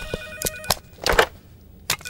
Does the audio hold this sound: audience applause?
no